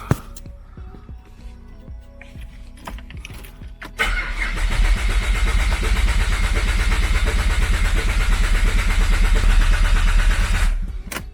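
A car engine on a dynamometer cranks over with its fuel pump unplugged, a steady loud starter churn that begins abruptly a few seconds in after quieter shop noise and continues without catching, then cuts off near the end.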